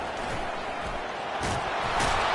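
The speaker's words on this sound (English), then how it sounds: "the crowd really making some noise now, trying to help out this defense to get this stop near the goal line" A football stadium crowd roars in a sustained wash of noise as the home fans urge their defense to a goal-line stop, loud and continuous with swelling bursts.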